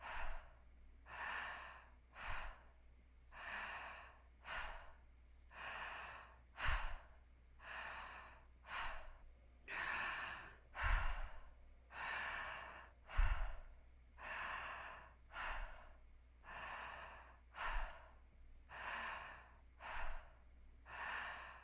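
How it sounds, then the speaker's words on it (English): Slow, deep breathwork breathing, close and fairly soft: about ten full cycles of airy inhales and long, relaxed exhales in an even rhythm, with no talking. "keep breathing whenever you're able to. Vibrant, alive inhales and soft, surrendered exhales."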